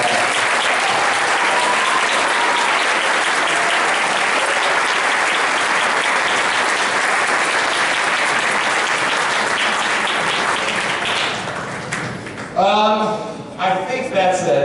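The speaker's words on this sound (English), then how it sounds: "would you please join me in giving our 4-year senior, Miss Alyssa Parr, a big round of applause" Loud, sustained applause from a jazz concert audience for a senior band member fills the hall, steady for about twelve seconds before thinning out, with a few voices and cheers near the end.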